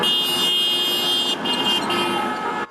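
Car horns sound steadily against busy road noise at a protest in Washington, DC, honking repeatedly in sustained tones with no voices.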